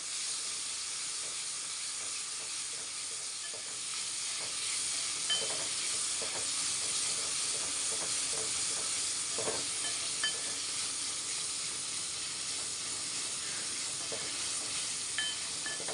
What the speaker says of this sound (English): Saute this for 5 minutes totally and add the tamarind pulp in it.